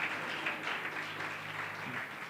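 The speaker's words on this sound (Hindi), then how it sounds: "जोर से ताली बजाएंगे" A church congregation clapping loudly together during a worship service, a dense, sustained wash of applause heard at a moderate distance with no pauses.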